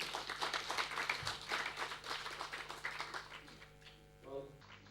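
Applause from conference members greeting a keynote speaker at an education conference, a light patter of clapping with mixed voices that thins out toward the end as a hum takes over.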